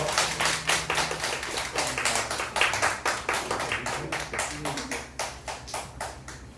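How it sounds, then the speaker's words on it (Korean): A youth group congregation at a Sunday morning church service claps in unison to celebrate a member's birthday, a near, rhythmic run of sharp, evenly spaced claps, with voices talking faintly underneath. "축하의 박수 부탁드려요"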